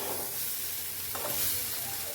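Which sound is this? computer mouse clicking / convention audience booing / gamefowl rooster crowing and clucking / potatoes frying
potatoes frying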